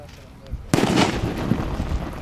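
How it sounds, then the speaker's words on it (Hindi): A penta sky shot firework is set off outdoors during Diwali cracker testing: a sudden loud burst followed by a sustained crackling, fizzing roar lasting about a second and a half, with no talk. "अब टेस्ट करते हैं हमारे पास इस टाइप के पेंटा स्काई शॉट का, देखते हैं ये कैसा चलता है।"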